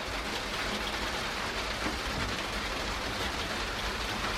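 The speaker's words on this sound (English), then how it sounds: "It's raining a little bit." Light rain falls steadily outdoors on a muddy site, a soft, even hiss of drops that holds constant throughout with no voices.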